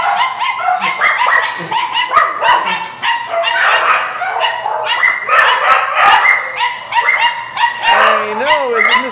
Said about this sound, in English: You're a different dog now.